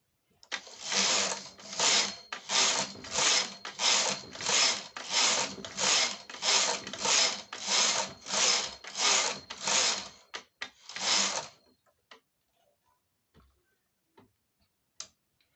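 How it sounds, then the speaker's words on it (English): Brother KH-811 knitting machine knitting rows of baby mittens, the carriage swept back and forth in about fifteen evenly spaced rasping passes, loud and close, then a few faint clicks as it stops. "Then go ahead and knit 15 rows."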